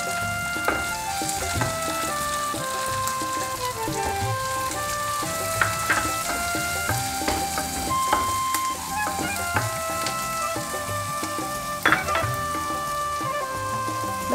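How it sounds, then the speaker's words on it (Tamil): Green chillies and onions fry in a pan for prawn and bottle gourd kulambu, with a steady crackling sizzle and scattered spatters and clinks of the pan. "பச்சை மிளகாய் வெங்காயம் ஆட் பண்ணிக்கலாம்."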